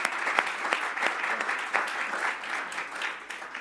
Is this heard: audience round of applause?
yes